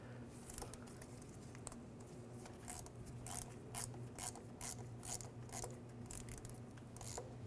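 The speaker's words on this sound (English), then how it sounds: "I use an 8mm socket. Take this nut off." Ratchet with an 8mm socket removing a nut while replacing the clutch slave cylinder on a 2005-2010 Chevrolet Cobalt, a steady run of quick, faint clicking strokes under a low background hum.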